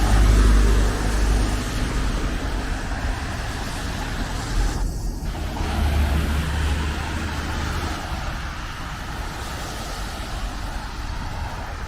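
A city bus rolls along a suburban road, its engine a steady low rumble beneath broadband road and tire noise, heard close from inside or beside the vehicle without talking.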